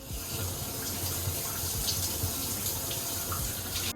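A bathroom faucet runs steadily before a shower, a constant close hiss of flowing water with faint splashing, alone without voices.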